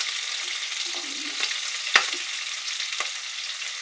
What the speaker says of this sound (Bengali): পেঁয়াজ রসুন সব ভাজা হবে,